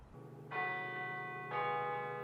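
A church bell tolls twice at the University of Kansas commencement, two loud, ringing strikes about a second apart, each hum sustaining and overlapping over a low drone.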